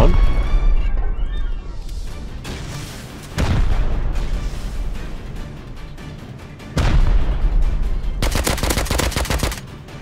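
Loud, unsuppressed gunfire in the survival game Rust: bursts of rapid automatic shots and heavy booms come in clusters, close and harsh, with brief lulls between volleys.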